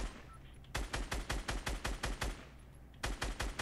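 Fortnite gunfire comes as two rapid bursts of evenly spaced, punchy shots, about nine in the first volley and four in the second, separated by a brief pause. The shots are loud and close.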